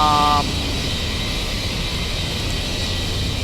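A simulated Boeing 737-900 in X-Plane 11 climbs out with a steady, loud broadband engine roar, opening with a brief electronic tone that stops almost at once.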